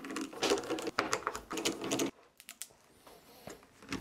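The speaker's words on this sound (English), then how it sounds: "you need a tiny little Torx, I think it's a T8, to get these screws loose." Tiny Torx T8 screws being worked loose from an old Sun Microsystems computer, heard as a dense run of close clicking and rattling taps for about two seconds, then sparse scattered clicks with quiet gaps.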